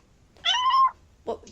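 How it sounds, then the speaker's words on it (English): A cat meows once, a drawn-out, close-up call, followed by a brief softer chirp a moment later. "Sorry, my cat is meowing."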